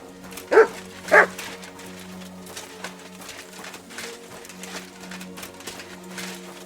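A dog in Kingdom Come Deliverance II gives two sharp barks near the start, close and clear, followed by quieter game ambience with a steady low hum and occasional soft sounds.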